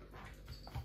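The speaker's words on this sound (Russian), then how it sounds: "Собака пришла домой." Dog whimpering softly indoors, a short high whine over a low background hum, with a brief louder burst near the end.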